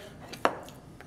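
A single crisp knife stroke through pork loin on a cutting board, one short sharp chop standing out from a quiet kitchen background.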